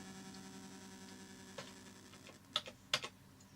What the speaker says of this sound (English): this is always a computer, so I need to use the keyboard